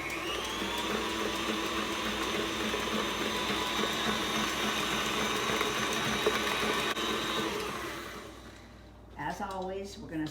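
An electric mixer beats cream cheese cookie dough in a steady, continuous whir that runs for about eight seconds before winding down and stopping.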